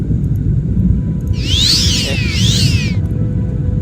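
A pet cat in the room gives a loud, drawn-out meow with a rising and falling pitch, sounding close over a steady low background rumble.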